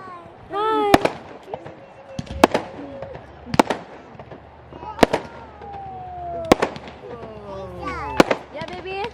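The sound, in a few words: Canada Day fireworks exploding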